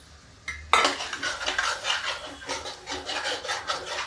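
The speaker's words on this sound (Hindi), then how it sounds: "अभी देखिए इसमें हम डाल देते हैं टमाटर।" Tomatoes drop into a cooking pan for desi chana chole, followed by steady, repeated scraping strokes of a spoon stirring against the pan.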